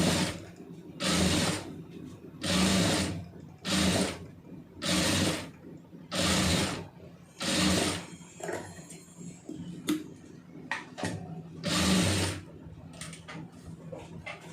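Sewing machine running in repeated bursts while stitching a pleated puff sleeve, about seven evenly spaced runs of close mechanical whirring, each lasting roughly a second, separated by short pauses with quieter handling noises.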